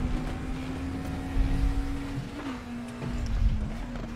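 A race car engine in the RaceRoom sim racing game drones at a steady pitch, then blips and drops through downshifts, the note dipping and rising again in short steps at moderate loudness.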